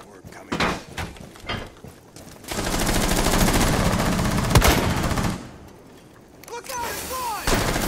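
Automatic gunfire tearing through drywall in Rainbow Six Siege: short bursts, then a sustained loud stretch of rapid fire and impacts, with voices talking around it.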